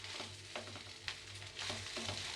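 Egg rice with salt and masala stir-fried in a pan for quick home-style fried rice, giving a steady sizzle with repeated scraping stir strokes; no voices.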